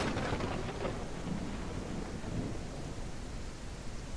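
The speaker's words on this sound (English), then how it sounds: "I wanted to get the full extent of this thunderstorm" A video game thunderstorm in Railroads Online, with heavy rain pouring steadily and deep rumbling thunder rolling underneath. The roar is dense and constant, with no voices over it.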